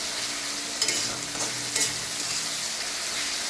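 Pieces of rohu fish fry in hot oil in a pan, a loud continuous sizzle broken by two or three scraping stirs of a spatula, with no talking.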